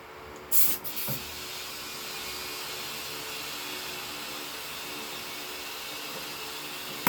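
A brief, loud burst of air from a tire's Schrader valve near the start, followed by a long, steady, soft hiss of escaping air that carries on to the end.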